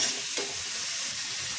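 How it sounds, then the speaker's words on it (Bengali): Potatoes sizzle in hot frying oil in a home kitchen, a steady close crackling hiss with a brief stir near the start. "এখন দেখো বন্ধুরা, আলুটা ভাজা হয়ে গেছে সুন্দর করে"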